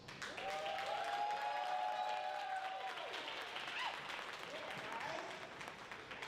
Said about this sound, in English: Y'all keep that round of applause going for yourselves.